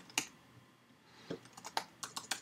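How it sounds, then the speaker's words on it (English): Quiet, sparse keystrokes on a computer keyboard: a single press, a pause, then a quick cluster of clicky taps close by. "so I just pasted that in on my keyboard."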